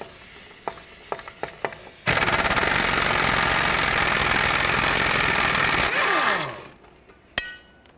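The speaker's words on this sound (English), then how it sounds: "So I'm going to try to break these free with my impact gun first." Pneumatic impact gun hammering at frozen 21 mm strut bolts on a 2007-2010 Chrysler Sebring front strut: a few sharp taps, then a loud, sustained rattling burst of about four seconds that winds down and stops, followed by one final clank.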